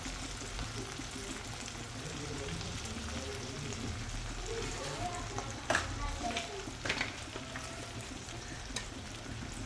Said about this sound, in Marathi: त्यानंतर इथे मी रेड चिल्ली सॉस टाकून घेत आहे आणि थोडंसं डार्क सोया सॉस टाकून घ्यायचा आहे.